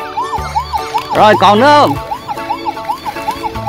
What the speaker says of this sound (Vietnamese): xe chở rác mà có còi hú luôn á các bạn ơi